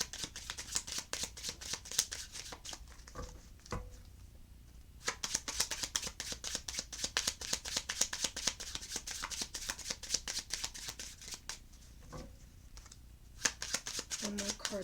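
Playing cards are shuffled in rapid runs of crisp riffling clicks near the microphone during a tarot-style reading, pausing briefly twice before resuming, with a voice speaking intermittently.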